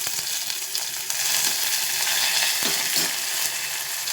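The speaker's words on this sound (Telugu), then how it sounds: "తర్వాత కరివేపాకు వేద్దాం," Curry leaves and green chilies hit hot oil in a pan for betel leaf rasam, making a loud, dense, continuous sizzle that stays close and even throughout with no talking.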